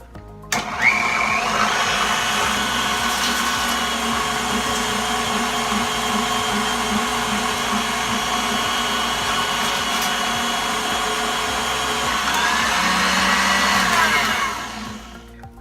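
Chickpeas and fava beans for falafel are ground a second time in a food processor or grinder, making a loud, steady motorized whir that runs continuously for about fifteen seconds before cutting off.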